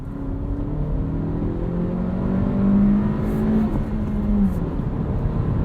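A car engine drones from inside the cabin, its pitch climbing steadily through the revs in a smooth rising whine, with steady road rumble underneath.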